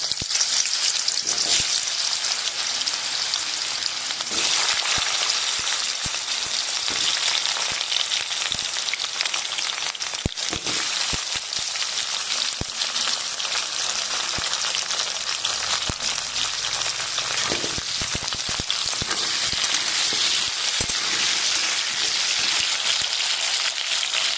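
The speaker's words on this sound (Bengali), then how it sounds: "গরম হয়ে গেছে, প্রথমে আমি আলুগুলো ভেজে নেব।" Potatoes frying in hot mustard oil in a pan, a loud, dense, continuous sizzle with crackling pops, close by and steady throughout with no talking.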